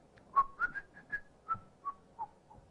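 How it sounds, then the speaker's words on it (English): A person whistles a short melodic phrase of about eight distinct notes, some sliding, fairly quiet and close with brief gaps between them and no talking. "I begin to whistle"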